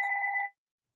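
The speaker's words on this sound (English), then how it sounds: "Is that your phone?" A phone rings with one short electronic tone burst that cuts off abruptly, leaving silence after it.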